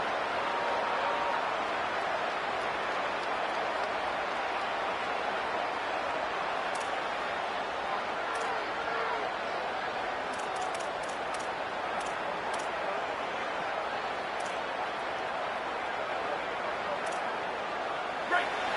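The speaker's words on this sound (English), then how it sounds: "This crowd bringing the energy and noise early." A large stadium crowd at a Texas A&M versus Notre Dame football game roars in a dense, continuous wash of noise, steady and loud throughout, with faint sharp ticks scattered on top.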